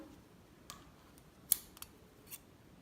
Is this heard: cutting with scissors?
yes